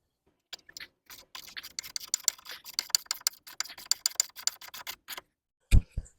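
A ratchet tightening a coilover end link nut on a 2003 VW Golf MKIV, heard up close as a rapid, uneven series of sharp ticking clicks, ending in a short thump.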